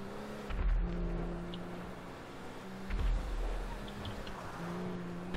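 A car engine in GTA V Online hums and revs, with repeated whooshing passes and rising whines, steady and moderately loud.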